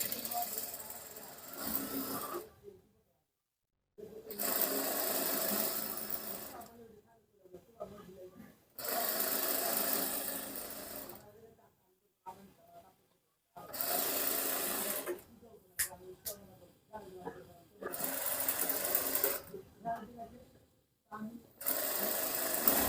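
A sewing machine stitches the seam of palazzo pajama fabric in several loud bursts of rapid running, separated by short silences and pauses while the cloth is repositioned.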